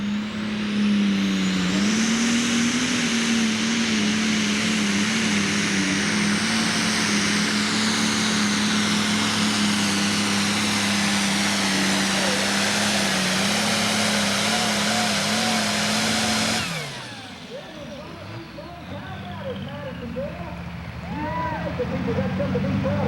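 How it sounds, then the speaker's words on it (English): A 6,000 lb super stock pulling tractor roars at full power through a 1995 Kentucky pull, a loud steady engine drone with a rising high whine that cuts off sharply near the end, leaving crowd murmur and a fading mechanical whir. "If he can get this tractor to run just right"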